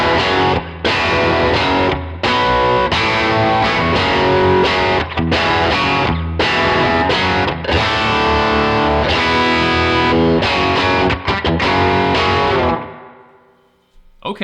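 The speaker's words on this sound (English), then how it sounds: "Let's boost it with the king of tones." A guitar amp model of a Fender Super Reverb on its normal channel, boosted by a King of Tone overdrive pedal, plays a loud, driven passage of chords and riffs for about thirteen seconds before ringing out into silence.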